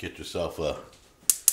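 Two sharp, bright clicks from a gas stove burner igniter, about a fifth of a second apart, coming right after someone speaks briefly.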